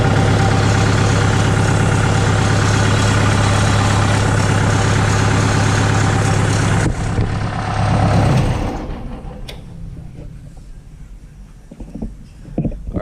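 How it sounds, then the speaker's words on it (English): Kubota L3250 tractor with a bad throwout bearing running loud and close, a steady rough engine drone with grinding mechanical whine that drops off after several seconds into a quieter idle. "Alright, so you can tell that throwout bearing's bad. It makes a pretty bad noise."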